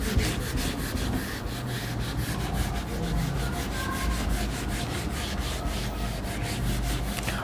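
Steady rapid scrubbing as a board is rubbed clean to erase writing in a physics lesson, a continuous close rasping stroke rhythm with no voices over it.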